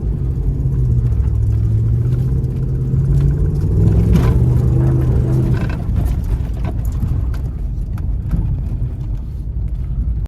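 A RAM pickup truck rumbles through low-speed drifts with stability control off, its engine a deep steady drone that rises in pitch mid-run, followed by rougher tire and gravel noise, close and loud.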